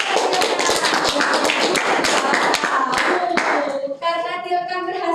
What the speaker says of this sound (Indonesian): Paling Baik, beri aplaus dulu.